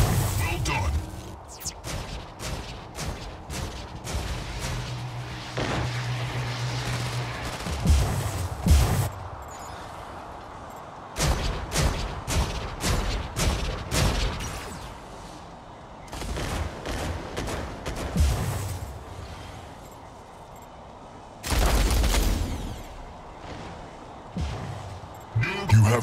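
Mech Arena combat with a Panther Carbine produces repeated bursts of heavy rapid gunfire and booms, loud and close, broken by short gaps, while an announcer voice speaks over parts of the action.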